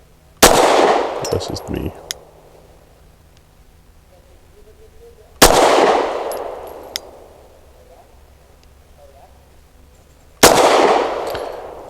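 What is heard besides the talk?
pistol gunshots fired at a target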